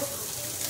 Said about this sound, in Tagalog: Lagyan natin ng water a little bit.